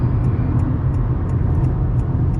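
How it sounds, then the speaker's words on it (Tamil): Steady road rumble fills the cabin of a 2020 Honda City ZX while driving, a continuous loud low roar with faint periodic ticking above it. "இந்த ரோட்டில் எந்த கார் ஓட்டினாலும் அந்த ரோடோட நாய்ஸ் அழகாக கேபின்குள்ளே வந்துடும்"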